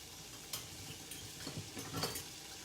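Onion and garlic get stirred in a hot pan with a small spoon, a soft steady sizzle under light scraping and tapping, close and fairly quiet, with no talk.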